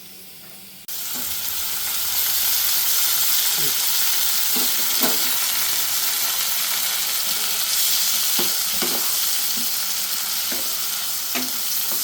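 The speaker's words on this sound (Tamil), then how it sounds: "நல்லா குழைவாக வதங்கணும் நல்லா வதங்கட்டும்" Onions sizzle steadily in a hot pan, with a spatula scraping and stirring at irregular moments over the constant frying hiss.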